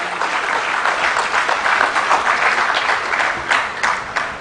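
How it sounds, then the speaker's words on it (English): An audience at a live teacher prize ceremony in Ghana applauds loudly and steadily, dense clapping from a large crowd throughout, with a few sharper individual claps standing out. "I note the fact that you have applauded this"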